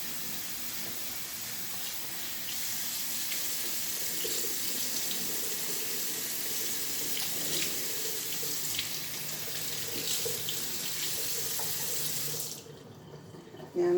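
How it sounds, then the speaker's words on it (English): Cold water runs steadily from a tap into a basin, a constant splashing hiss that continues alone for about twelve seconds before cutting off abruptly. "I'm going to let that fill with cold water"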